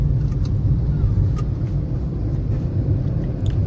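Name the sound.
car driving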